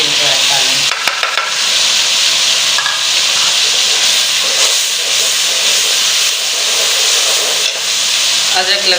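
Tomatoes and green chillies hit onions frying in a pan for Lahori chana curry, giving a steady, loud hiss and sizzle with occasional stirring scrapes, no voices.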